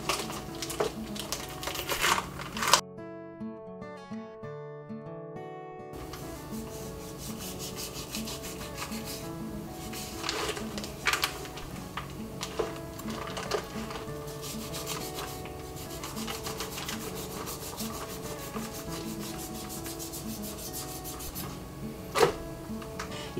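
Knife cutting through and peeling back the plastic packaging of a beef brisket over a sink, a long stretch of rubbing, crinkling and scraping with scattered sharp rustles and a brief quiet gap near the start.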